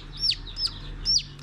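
Young chicks give thin, high chirps, a few separate peeping calls spaced about a third of a second apart, close and clear over a quiet background.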